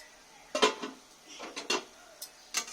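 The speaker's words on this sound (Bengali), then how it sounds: "এবার ঢাকনাটা খুলছি।" A pot lid lifts off after about ten minutes of covered cooking of a pointed-gourd and poppy-seed curry, giving several short metallic clanks and scrapes at close range, with no talking.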